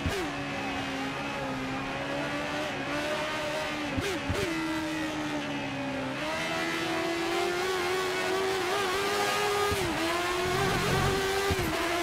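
A Formula 1 race car in the F1 2013 video game, on a classic 1980s-season circuit such as Silverstone or the Nürburgring, holds a steady high engine whine. Gear shifts and brief dips break it as it slides through corners, with tyre noise underneath.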